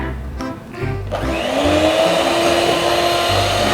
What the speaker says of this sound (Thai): ใส่น้ำมันลงไปแล้วก็ ค่อยๆตีนะคะ